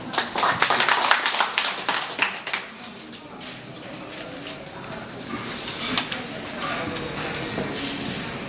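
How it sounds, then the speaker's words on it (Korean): Audience clapping at a gallery opening ceremony, a couple of seconds of distinct nearby claps that quickly thin into scattered applause and a murmuring room, with voices underneath. "힘찬 박수 부탁드립니다."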